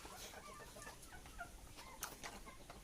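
Laying hens cluck softly and steadily in a small backyard coop behind a house, scattered short clucks overlapping under a constant low hum of farm ambience.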